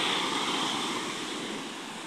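Sea surf rolls in as waves build along a shoreline, a steady wash of breaking water with some wind noise, close and moderately loud, fading slightly, with no voices.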